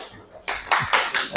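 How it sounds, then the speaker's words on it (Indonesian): A small group in a classroom training session claps briefly, giving a quick burst of applause from close by that lasts about a second. "Tepuk tangan untuk yang menjawab Bu Endah, Bu Edi, dan Bu Isti."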